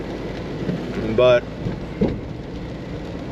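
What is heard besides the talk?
rain with thunder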